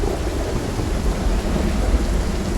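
A thunderstorm rages in the Project Zomboid game, heavy rain hissing steadily over a deep rumbling thunder bed, loud and unbroken with no voices.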